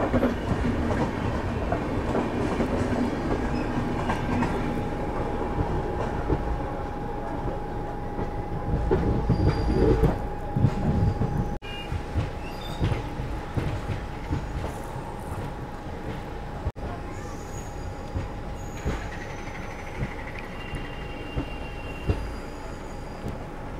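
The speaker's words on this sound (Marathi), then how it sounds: "Chennai central Ahmedabad superfast express Amalner वरून चालली" The Chennai Central–Ahmedabad Superfast Express rolls past at Amalner station, a steady loud rumble of wheels with rhythmic clickety-clack and a faint squeal, continuous for over twenty seconds with no voices.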